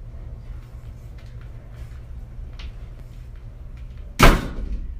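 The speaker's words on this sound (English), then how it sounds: "Can you shut the door?" A door swings shut with a single sharp slam near the end, loud and close against a quiet room hum.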